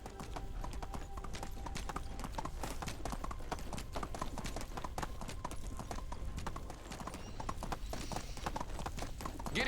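Horse hooves clip-clop steadily in the medieval video game Medieval Dynasty, a continuous rhythmic trot of hard hoof strikes at moderate level with no talk over it.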